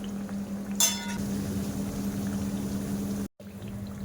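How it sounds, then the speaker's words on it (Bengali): Khaja sweets sizzle and bubble as they deep-fry in hot oil in a wok, a steady low hiss over a constant hum with a short bright clink early on and a brief dropout later. "এবার আমি মিষ্টিগুলো ভাজা করে নেব।"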